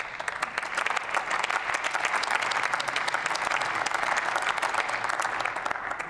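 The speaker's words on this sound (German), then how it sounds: "Applaus" Members of the German Bundestag applauding in the plenary chamber during a commemoration of the Bosnian war victims, a steady, even burst of many hands clapping at a moderate distance, sustained throughout without speech.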